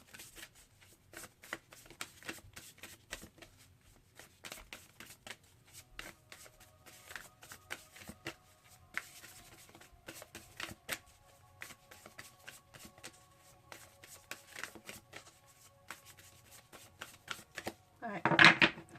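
Tarot cards are shuffled close and quietly in a long run of soft riffles and taps, with a louder rustle of handling near the end.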